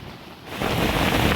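Heavy rain at night during wild camping, a broad steady wash of noise that swells louder partway through and then holds as a dense, close downpour with no voices.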